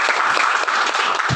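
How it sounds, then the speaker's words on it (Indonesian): Applause from an audience of university students at a ministerial address at an institute in Singaraja, Bali: dense, steady clapping that stays loud and even throughout, with no voices over it. "Tepuk tangan saya buat mahasiswa."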